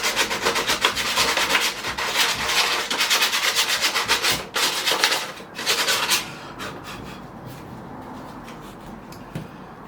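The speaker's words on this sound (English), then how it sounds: "I've got some sandpaper. I'm just taking off the excess glue that's inside there from the old glue" Sandpaper scrubbing old excess glue off a surface before regluing with Gorilla Glue: fast, steady back-and-forth rasping strokes, close and loud, slowing into lighter intermittent rubbing near the end.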